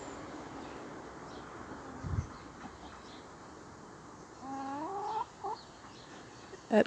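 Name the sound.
chickens clucking in a suburban garden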